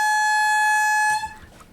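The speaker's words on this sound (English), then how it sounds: "you get a little air pump in there driving a working air horn" A working air horn on a steampunk timer machine, fed by a small air pump, blares one steady, loud, tonal blast that cuts off abruptly into a rough hissing rush of air.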